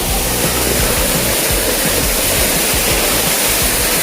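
A waterfall roars continuously in a dense, loud, even rush of falling water, steady and close with no pauses for the whole stretch.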